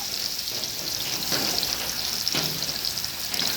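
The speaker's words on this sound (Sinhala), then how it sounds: "අපි මේකට දැන් අපි තලාගත්ත සුදු ලුණු ටික එකතු කරගමු මේ විදිහට. සුදු ලුණු ටික ටිකක් දැදෙන්න දෙමු තෙල් එකේ." Crushed garlic sizzling in hot oil in a pan, a steady close crackle with a couple of brief swells as it is stirred.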